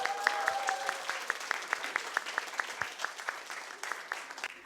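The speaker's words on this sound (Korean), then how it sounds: "박수로 앞으로 모시겠습니다." A church congregation at a trot-style praise class at Kyunghyang Church claps together in a quick, regular beat, the crisp hand claps fairly soft and evenly spaced, with a brief voice at the start.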